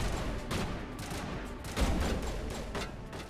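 Enemy gunfire in Mass Effect, a dense run of repeated shots crackling through a battle with one heavier blast near the middle, no talking.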